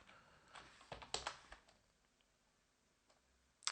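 A computer keyboard types out an apt-get autoremove command in a terminal: a short run of soft, scattered key clicks, quiet and close, then a lull and one last sharper keystroke.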